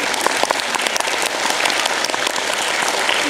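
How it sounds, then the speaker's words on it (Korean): Steady, full applause from a film festival audience during a post-screening Q&A at the Bucheon International Fantastic Film Festival, with many hands clapping continuously throughout. "우리 이승환 감독님께 박수 한번 드립니다"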